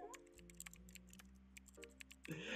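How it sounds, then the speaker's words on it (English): Keyboard typing sounds from a video game: a quick run of light, irregular key clicks over a soft, low background tone. "Keyboard noises. More keyboard noises."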